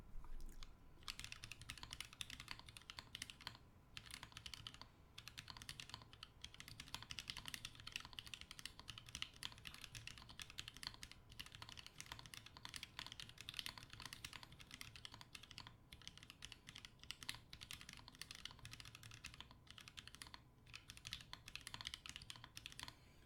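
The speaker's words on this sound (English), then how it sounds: "Not even gonna plug it in, just gonna start typing." Rapid typing on a mechanical keyboard left unplugged, a Chicory40 Daisy build with milky yellow switches and cream keycaps, the dense clacking continuing steadily and close up for the whole stretch with no talking.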